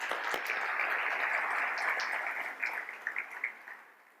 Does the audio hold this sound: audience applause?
yes